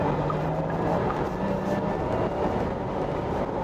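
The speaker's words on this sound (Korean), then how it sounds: "이 스포츠 사운드가 고속으로 달리는 다이나믹한 주행의 느낌을 좀 더 살려주죠" Porsche Taycan GTS electric car at speed with its artificial sport sound active during acceleration, giving a steady, even synthetic hum under road and wind rumble, heard from inside the cabin without talk.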